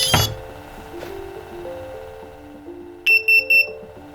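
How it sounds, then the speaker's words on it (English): A freshly built FPV freestyle drone powers up for the first time, a rising series of electronic startup tones followed by three short, sharp arming beeps in quick succession at close range. "Those three beeps means arming is ready"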